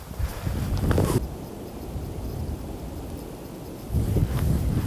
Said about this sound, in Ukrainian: На вечір вітер, який розійшовся